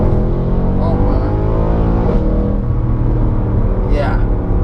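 A deep, loud Mercedes-AMG V8 engine rumbles steadily at close range in Sport Plus mode, its tone swelling slightly as it revs, with no talk over it.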